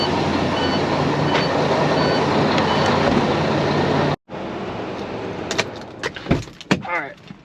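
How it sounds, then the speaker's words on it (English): A semi truck idles on a cold day while building air pressure, giving a steady loud rumble and hiss that cuts off abruptly, followed by scattered nearby clanks and rattles. "we're gonna let her build some air up"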